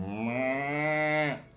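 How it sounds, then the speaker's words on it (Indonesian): A cow moos once in a long, rich, loud call used as a sound effect in a told story, close and alone, ending with a falling tail. "Dan ada seekor sapi juga keluar."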